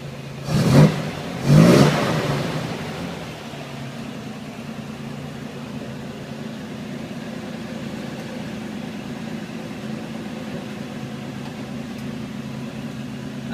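A 1953 Corvette, VIN 181, fires up with two quick loud revs, then settles into a steady, even idle that runs on alone for over ten seconds.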